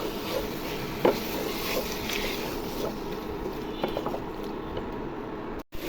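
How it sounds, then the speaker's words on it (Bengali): Chicken pieces are stirred and sautéed in a pot with bay leaf, cinnamon and cloves, a close continuous scraping and rubbing of a spoon through the meat with occasional clunks. "মাংসগুলো এখন আমি কষিয়ে নিতেছি। নেড়ে চেড়ে দিব।"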